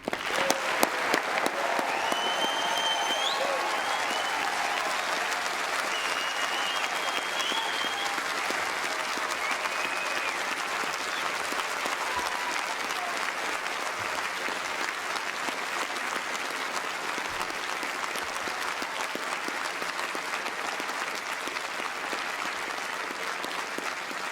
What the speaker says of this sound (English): join me now in a really rousing round of applause for all our new graduates